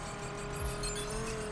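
A car drives through New York in the racing video game The Crew, a faint, steady engine hum with a brief tire squeal and whoosh partway through.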